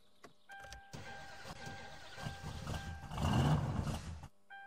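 A Satsuma car in My Summer Car sputters and stalls, its engine chugging unevenly and building briefly before cutting out, heard close with faint electronic tones over it and no speech.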